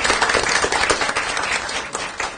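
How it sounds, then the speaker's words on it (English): Applause at a Pitt County commissioners meeting, a short, dense patter of many people clapping in a meeting room, moderately loud and steady with no talk over it. "applause, please."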